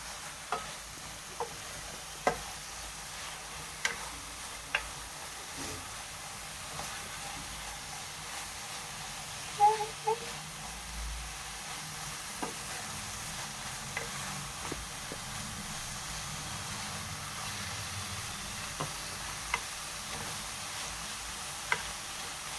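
Paneer, about a quarter kilo, stirred into a spinach mixture in a frying pan for palak paneer, giving a steady low sizzle and soft scraping of the spatula with occasional clicks of utensil against the pan.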